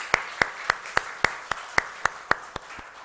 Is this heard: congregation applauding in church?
yes